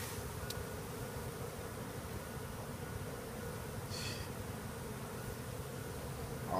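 Honey bees buzz in a steady, faint drone during removal of a hive from a window, continuous and unbroken with no voices.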